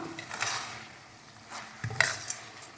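Chitti muthyalu rice grains stirred slowly in water in a cooking pot for kushka, with soft intermittent scraping and light clinks of the utensil against the pot, moderately quiet and close.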